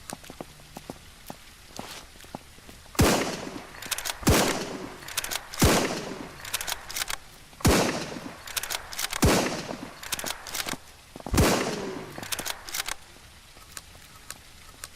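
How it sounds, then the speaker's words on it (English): Gunfire from shooting zombies in the survival game SurrounDead, with a string of loud sharp shots spaced a second or two apart over constant background noise and small clicks, and no talking. "Let me just start shooting these motherfuckers."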